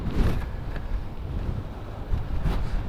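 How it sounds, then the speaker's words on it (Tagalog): Strong sea wind buffets the microphone on a motorcycle ride along the coast near an airport, a steady low roar with gusts swelling and easing throughout. "Sobrang lakas ng hangin guys kasi dagat na yan sa harap natin."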